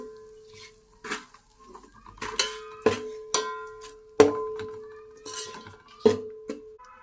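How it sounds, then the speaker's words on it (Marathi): A utensil stirs dry mutton masala in a pan, giving sharp metallic clanks and scrapes at irregular intervals, several loud hits standing out against a quiet background, with no talking. "एक चमचा मसाला घालणार आहोत आधी चांगलं परतून घेऊ"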